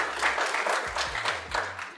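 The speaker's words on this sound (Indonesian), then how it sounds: "Boleh tepuk tangan ya teman-teman Musifah." Brief applause from an audience at a talk-show style event, a short patch of clapping lasting about two seconds over a faint low hum.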